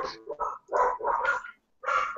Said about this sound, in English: Dogs are acting up.